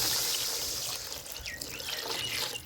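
Water is poured into a pot of rice for bagara rice, a soft trickling and splashing stream heard close by, fairly faint and continuous, with no voices.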